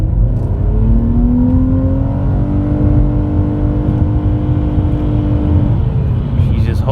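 A 2014 Nissan Maxima SV V6 engine accelerating hard on a quiet road, its note rising steadily then holding high revs without shifting, loud and close from the cabin, with a voice speaking briefly near the end.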